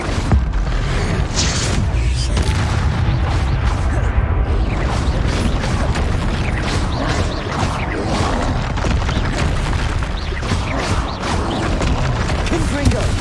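Confringo fire spells blast again and again in Hogwarts Legacy, a loud, dense run of booms, whooshes and crashing impacts that continue without a break.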